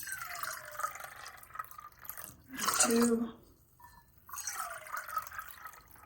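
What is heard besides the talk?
water poured into a measuring cup while measuring 3 cups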